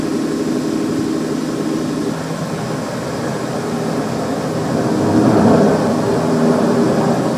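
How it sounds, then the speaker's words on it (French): A formation of American B-25 bombers drones overhead in a wartime Pacific raid on Rabaul, a loud steady engine roar that swells slightly toward the end, with no voices. "Des avions. Espérons que ce sont les nôtres."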